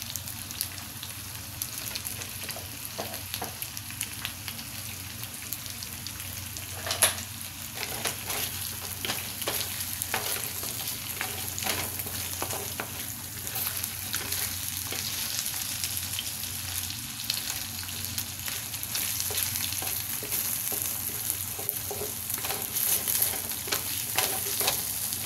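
Shrimp frying in a pan for seafood rice, a continuous close sizzle broken by frequent scraping and clinking as a utensil stirs, with no voices over it.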